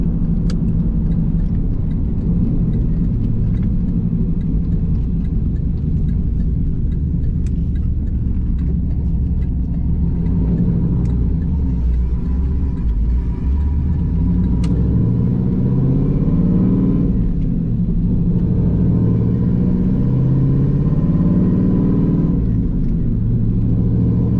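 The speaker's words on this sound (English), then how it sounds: "It's actually not too loud in here driving with the cutouts open." A deep, steady exhaust drone with the exhaust cutouts open fills the cabin of a moving cammed Pontiac Trans Am, rumbling low and constant with slight swells as the engine pulls.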